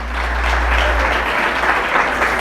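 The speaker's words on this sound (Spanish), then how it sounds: "¿Alguien le puede dar un aplauso al Rey Soberano?" Church congregation applauding during a Spanish-language sermon, a steady dense wash of clapping that holds at full strength for about two and a half seconds, close and loud with a low hum beneath.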